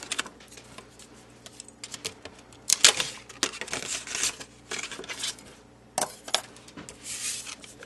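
A Big Shot die-cutting machine is cranked through with a cutting board over the die, giving close, irregular clicking and ratcheting bursts with faint crinkles and no voices.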